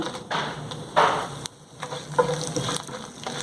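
Dried red chilies crackle and sizzle in hot tempering oil for an ivy gourd chutney, with soft stirring scrapes and small popping bursts, close and steady, no talking.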